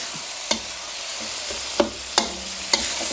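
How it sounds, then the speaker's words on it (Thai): Canned fish, flesh and liquid, being mashed and stir-fried in a pan for Thai chili paste: a steady soft sizzle with four sharp spatula knocks against the pan at uneven intervals. "พร้อมกับผัดคลุกเขาให้เข้ากันแบบนี้"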